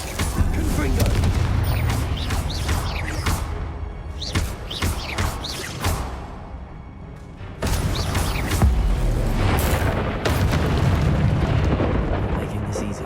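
Confringo spell explosions boom in the Hogwarts Legacy video game during a fight among statues, loud layered blasts and bursts filling most of the stretch, briefly easing midway before rising again.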